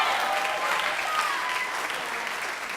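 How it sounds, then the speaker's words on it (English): Audience applause at a high school spring choral concert, a dense, steady wash of clapping from a crowd held at moderate level for a few seconds. "round of applause, absolutely"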